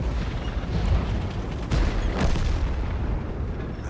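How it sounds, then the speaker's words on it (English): A tank in World of Tanks fires a high explosive shell, a dense rumbling blast with a broad, sustained roar that swells briefly twice and holds loud and noisy throughout. "he puts a shell into him, a high explosive shell, which does 387 damage"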